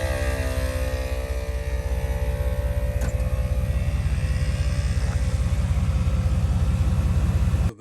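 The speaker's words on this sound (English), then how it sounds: "This is an onboard air compressor and it's designed to air up the tires at the end of the day." Onboard air compressor on an offroad vehicle running for tire inflation, a loud continuous motor drone with a steady pulsing low throb and tonal hum, alone with no talk, cutting off at the end.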